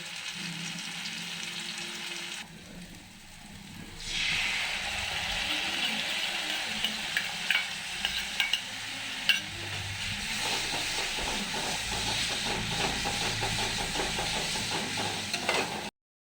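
Ground spices (cumin, coriander, turmeric, chilli powder) frying in oil for Bengali achorer dhoka, a steady close sizzle with bubbling that swells after a brief dip, with occasional stirring clicks throughout.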